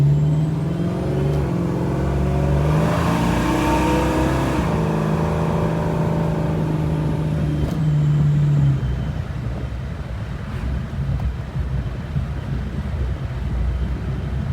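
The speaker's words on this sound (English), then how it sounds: "Listen to how loud this freaking supercharger is." A supercharged 1973 Ford Mustang Mach 1 driving, its engine droning steadily with a loud supercharger whine that rises and then settles, heard from inside the car under wind noise.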